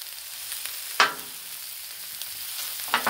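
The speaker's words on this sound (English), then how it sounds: "Onion and pepper on the griddle with the celery" Onion, pepper and celery fry on a Blackstone griddle, a steady soft sizzle with a few sharper scraping clicks from stirring, close and alone without talk.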